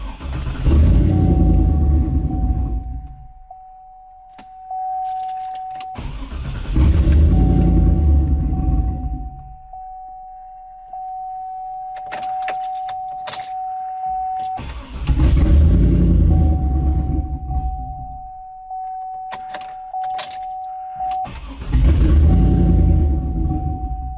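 A turbocharged LS truck engine cranks and catches several times, rumbling loudly for a few seconds each time before dying down, with a steady electronic tone between attempts and no talking.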